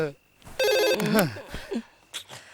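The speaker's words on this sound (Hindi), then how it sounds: "किसका फोन है?" A telephone rings in a Hindi action film starring Sunny Deol, its electronic trill loud and close for about half a second amid speech and background sound.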